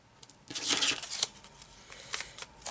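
Scissors snip and crunch through a tough piece of paper at a craft table, a close burst of rough cutting and rustling followed by a few softer snips.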